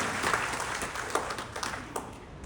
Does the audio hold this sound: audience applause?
yes